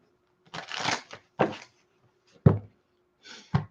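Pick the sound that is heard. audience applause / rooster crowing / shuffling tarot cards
shuffling tarot cards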